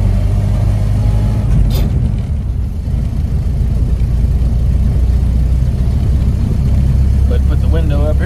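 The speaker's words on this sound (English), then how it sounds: "so if you want to go down to second gear or slowing down, just give it some RPMs" A 1930 Ford Model A truck engine revs to rev-match a downshift into second gear, a loud, continuous low rumble heard from inside the cab that swells and settles, with a voice at times.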